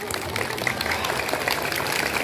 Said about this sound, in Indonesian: Terima kasih, tepuk tangan untuk Bapak Ibu Guru.